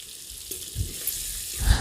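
Soft, steady sizzling of onions and tomatoes sautéing in a pan with salt, with occasional low stirring bumps and scrapes, no voices.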